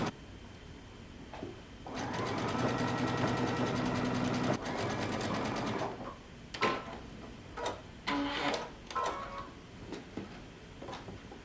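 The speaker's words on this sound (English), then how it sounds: "using a zigzag stitch, we're going to pull until our dot on the elastic reaches the dot on our fabric" A sewing machine zigzag-stitching elastic onto dress fabric runs in one steady burst of rapid mechanical ticking for a few seconds, then stops; a few fainter clicks and handling sounds follow.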